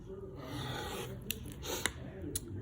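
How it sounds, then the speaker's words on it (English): Quilt fabric being cut diagonally with a rotary cutter or scissors, giving a quiet close-up rasping rub with a few small clicks. "So following the directions in your kit, we are going to cut this diagonally"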